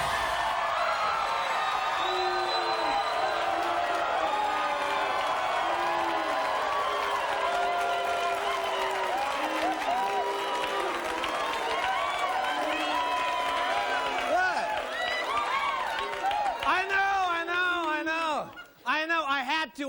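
A studio audience at a 1993 sketch-comedy taping breaks into sustained applause, whoops and cheering, a dense, steady wash of clapping that carries on for most of the stretch before thinning out near the end.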